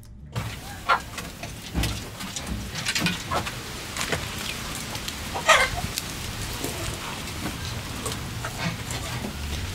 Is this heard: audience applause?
no